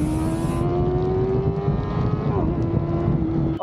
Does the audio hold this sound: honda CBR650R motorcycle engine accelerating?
yes